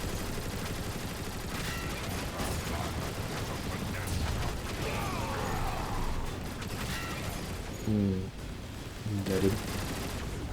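Turret gunfire in Transformers War for Cybertron blends into a constant mechanical rattle with sustained rapid shots over ambient game noise, while voices talk briefly.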